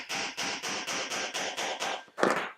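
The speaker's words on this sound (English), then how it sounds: "you don't want to hammer in real hard, because you can split your wood real easy" Small wooden pickets are tapped gently into a scale-model WW1 trench diorama, about eight crisp, evenly spaced knocks close by, followed by a louder, heavier strike at the end, with no talking.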